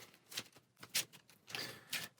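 Playing cards for the board game Marvel Champions are shuffled in several quick riffling bursts, close and soft, with brief pauses between them.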